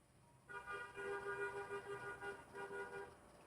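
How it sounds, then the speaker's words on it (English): A car horn honks in a series of short toots, a bit distant, against quiet background noise. "Did you hear the honks?"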